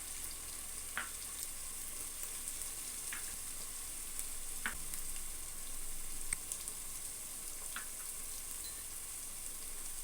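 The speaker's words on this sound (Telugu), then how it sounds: "ఉల్లిగడ్డలు ఎర్రగా అయ్యేదాకా మంచిగా వేపుకుందాం." Onions frying with spices in a pan for a prawn biryani, a soft steady sizzle with occasional light clicks of stirring, close but fairly quiet and without any speech.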